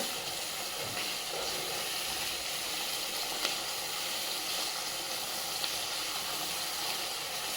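Spice masala for a tomato chicken curry sautéing in a pan gives a steady, moderately faint hiss and sizzle that runs unbroken throughout with no talking.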